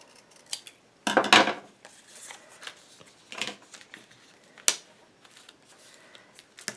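Scissors snip through paper at a craft table while a cottage-garden album is assembled, giving a few short crisp cuts with a louder burst of snipping near the start, close and clear with no talk.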